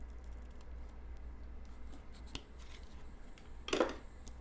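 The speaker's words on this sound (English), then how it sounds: "Get my scissors" Scissors snip through red ribbon in a single short, crisp cut near the end, close by, with faint handling rustles before it in a quiet room while a bow is being made for a craft card.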